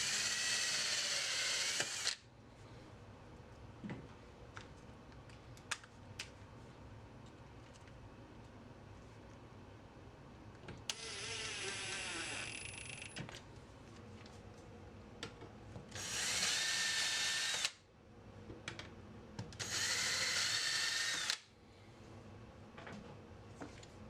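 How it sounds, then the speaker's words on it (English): A power drill with a Vix bit pre-drills screw holes in a wooden cabinet for drawer slide runners, whirring in three short bursts of a second or two, with quieter workshop clatter and handling noises in between. "Now use your Vicks bit to pre-drill your holes"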